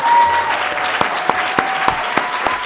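An audience leaving a talk on gorillas, zoos and primate conservation applauds steadily, a moderate wash of many hands with a few sharper single claps standing out near the listener.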